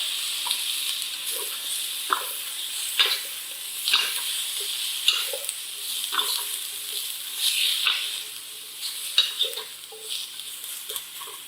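Cabbage stir-frying in a pan crackles with a continuous close sizzle, broken by the repeated scrape and clatter of stirring at an uneven rhythm.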